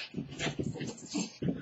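A young female puppy whimpers and whines in a rapid, restless series of short yelps and cries, fairly close and continuous, with no talking over it.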